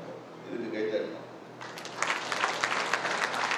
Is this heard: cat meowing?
no